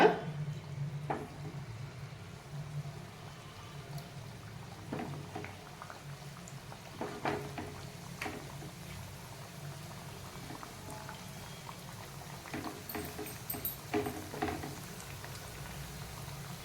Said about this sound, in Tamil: நமக்கு பஃப் பொரிச்சு எடுக்கிறதுக்கு எண்ணெய் ரெடியாக இருக்கு